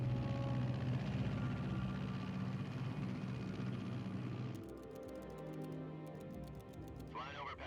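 An aircraft flies at 30,000 feet over Pakistan in a Metal Gear cutscene, heard as a loud, even engine drone that drops to a quieter hum partway through, with light clicking near the end.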